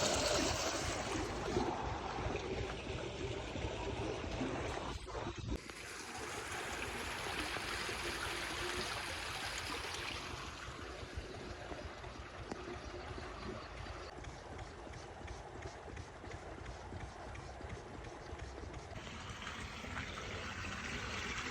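Irrigation water from a diesel-pumped channel in a Gujarat village on a cold morning rushes steadily. A continuous, fairly close wash of flowing water runs throughout with no talk.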